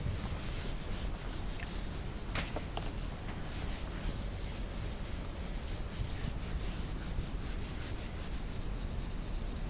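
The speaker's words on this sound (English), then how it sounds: "let me rub the board once" A classroom board wiped clean during a Class III mathematics lesson, with a continuous soft rubbing and scraping that runs steadily throughout without voices.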